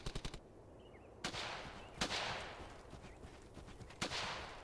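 Gunfire in the Brothers In Arms: Hell's Highway war game: a quick burst of rapid shots, then three sharp, loud single cracks spaced about a second or two apart against quiet background ambience.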